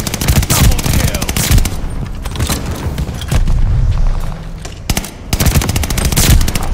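Call of Duty Vanguard multiplayer combat is dense and loud, with rapid machine-gun fire rattling almost continuously, a heavy grenade blast in the middle, and more bursts of shooting after it.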